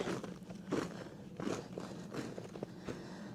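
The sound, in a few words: footsteps crunching on ground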